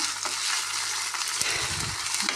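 Onions for a carrot bhaji sizzle steadily in a hot pan, a close, continuous bright frying hiss with faint stirring clicks and no talking.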